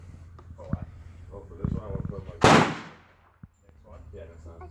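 A single sharp gunshot cracks out nearby during gun-dog training, with people talking around it before and after.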